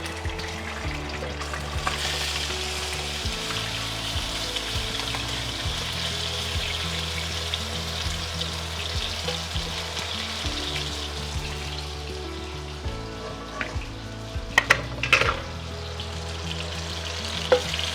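Potato pieces frying in oil in a pan for chicken adobo, a steady close sizzle that runs the whole time, with a few sharper clinks and scrapes near the end.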